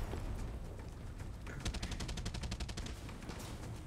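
Rapid automatic gunfire in the video game Far Cry 6, a quick burst of closely spaced shots rattling for about a second, with background game noise and low voices around it.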